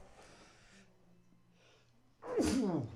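One loud, close human sneeze bursts out near the end, after a stretch of faint, quiet background.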